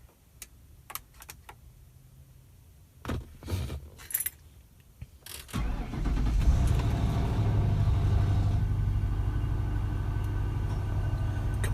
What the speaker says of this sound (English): Compressor comes on.